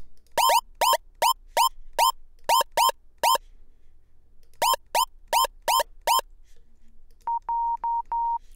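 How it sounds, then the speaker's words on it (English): Clean electronic sine wave tones from a Massive synthesizer oscillator with a fixed pitch, sounded as short repeated notes in quick rhythmic bursts, ending in a few steadier held beeps, with nothing else playing underneath. "that's what the sine wave sounds like with nothing else going on"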